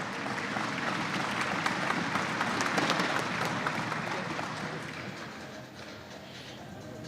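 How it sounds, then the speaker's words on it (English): An audience clapping for women archers at the Lancaster Archery Classic finals, a steady wash of applause from a crowd in an indoor venue, gradually thinning toward the end. "Let's give these ladies a round of applause"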